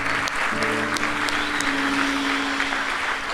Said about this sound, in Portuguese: Você pode aplaudir os novos decididos.